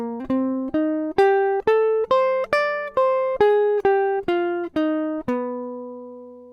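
A jazz guitar plays arpeggio lines over minor ii-V-I chords, about a dozen clean, evenly spaced plucked notes rising and falling, each ringing briefly before the next, close and alone with no voices.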